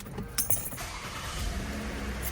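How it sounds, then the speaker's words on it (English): A 3.5-litre Toyota Avalon from the 2008–2018 generation is started after an oil change: keys jingle briefly, then the engine turns over and settles into a steady, moderately quiet idle with no talking. "now we're gonna go ahead and start the car."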